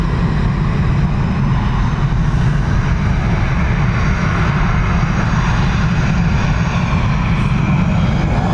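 An airliner takes off at Dublin Airport on single-runway operations, its engines making a loud, steady, broadband roar that holds throughout.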